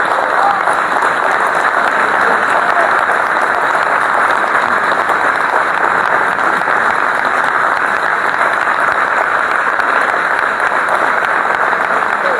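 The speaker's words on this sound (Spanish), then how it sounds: "La hermana Lucía, a quien ya le damos el primer aplauso de la tarde," Audience at a Spanish-language book presentation applauds steadily, a loud, sustained and uniform roar of many hands clapping that holds at an even level throughout without pause.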